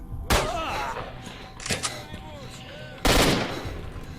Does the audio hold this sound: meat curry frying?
no